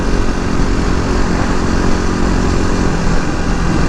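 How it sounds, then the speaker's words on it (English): Suzuki DR250 motorcycle single-cylinder engine fitted with a Dominator R exhaust, a loud, steady, continuous drone at close range with no breaks or talk. "so it can record the engine noise"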